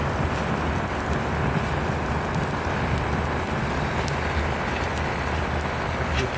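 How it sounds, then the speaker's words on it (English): An alcohol torch flame plays over copper glaze, giving a continuous close, even roaring hiss with no pauses. "I'm gonna work these other areas with some alcohol torch"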